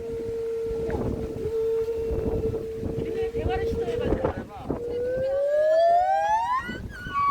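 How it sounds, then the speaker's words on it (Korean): A steady siren drones at one pitch, then rises in a long climbing wail, heard at a distance under wind and background noise. "사이렌 소리 난다."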